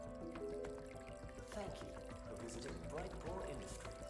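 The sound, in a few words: water pouring in Bright Paw video game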